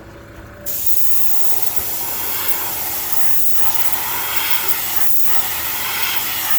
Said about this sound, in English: I'm spraying this with a light 20 pounds.